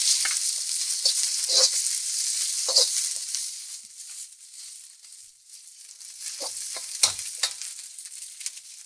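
Duck confit and quick-cooking noodles stir-fry in a hot wok, giving a steady high sizzle and hiss broken by scraping stirs and tosses at close range, with no voices.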